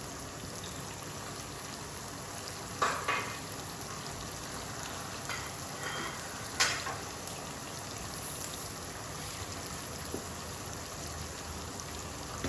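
Ginger and garlic fry in hot oil in a pan, sizzling in a constant close crackle with a few sharper pops and clicks of handling over the top.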